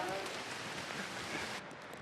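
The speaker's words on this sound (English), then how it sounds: "the drizzle has turned into heavy rain" Dense, steady heavy rain hisses across the whole clip along the St. Lawrence River in the Gaspé region, Canada, a broad wash of noise that drops slightly in brightness near the end.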